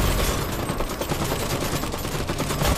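Dense, continuous gunfire aimed at a mech during a stronghold siege in Iron Harvest, a loud, close barrage of overlapping rapid shots and bursts with no gaps and no speech.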